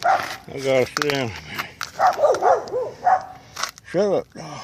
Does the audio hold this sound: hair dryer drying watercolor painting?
no